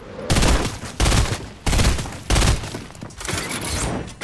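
Rapid bursts of gunfire from a Fortnite trick shot attempt, four loud volleys in quick succession followed by more shots, close and dominant with no talk over them.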